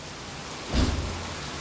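A big thunderstorm with heavy rain gives a steady wash of rainfall, broken by a brief, louder burst of thunder near the middle, with no voices.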